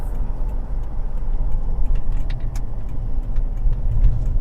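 A vehicle fitted with an eBox Mobile V3 throttle controller drives along with a steady, loud road and engine rumble heard from inside, and no talking.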